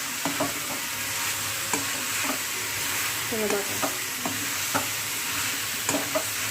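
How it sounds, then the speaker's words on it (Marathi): Ivy gourd (tondli) curry with spices is stirred in a pan on the stove, with a steady close sizzle and regular scraping strokes and taps of a spoon against the pan, and no talking. "चांगली अशी वर खाली अशी मिक्स करून घ्या सगळे मसाले जे आहेत आपले ते सगळे यामध्ये लागले पाहिजेत"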